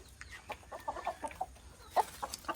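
Country hens in a home backyard coop clucking in short, close bursts, several birds overlapping with quick uneven calls over faint background hum.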